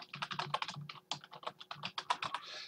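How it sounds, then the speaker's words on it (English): Rapid typing on a computer keyboard, a close, quick run of uneven key clicks with a louder tap near the end, no voices. "So I'm going to type in here,"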